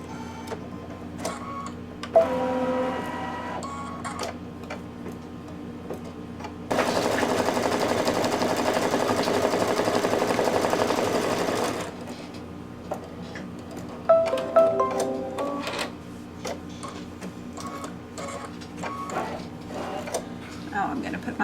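An embroidery machine stitching a placement line for batting on a Santa table runner, running as a loud, steady mechanical whirr for about five seconds, with quieter clicks and handling noises before and after.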